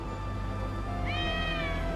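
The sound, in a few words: black cat meowing in Black Desert video game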